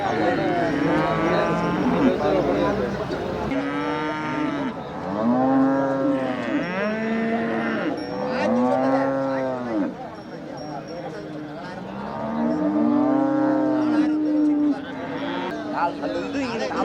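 Cattle at the Manapparai cattle market low repeatedly in long, close moos that overlap one another, amid constant crowd murmur and people talking.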